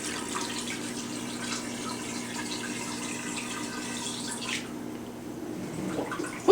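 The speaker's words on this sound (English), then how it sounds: "the water is draining out right now" Water draining from the drum of a Haier HLP21N washing machine, a steady rushing, gurgling flow that runs continuously and close by before it thins out near the end.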